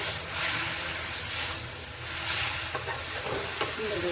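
Ground turmeric, cumin, coriander and lentil powder are stirred in a sizzling frying pan while cooking pangas fish with potatoes, giving a steady close frying hiss with scraping stir strokes and no talk.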